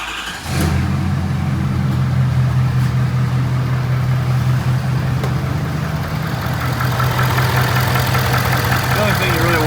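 Ford 6.7 Powerstroke diesel engine cranks briefly, catches and settles into a steady, loud, low rumbling idle that runs on close by.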